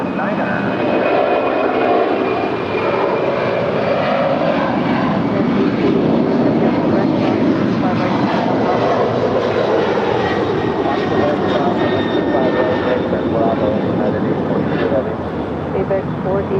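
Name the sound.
Boeing 767 jet aircraft engines at LAX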